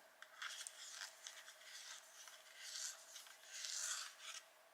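A cadmium green colored pencil is turned in a sharpener, giving a faint, close scratchy rasping in short uneven strokes over about five seconds.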